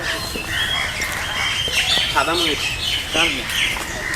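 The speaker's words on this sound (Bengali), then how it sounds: "আমরা এখন ময়ূর পাখি দেখি এটা সাদা ময়ূর" A white peacock at a zoo gives loud, harsh squawking calls, a few separate cries over busy crowd chatter and talk nearby.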